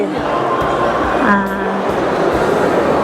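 A train rumbles steadily under heavy crowd noise, a loud continuous roar with a brief tonal squeal or hum in the middle.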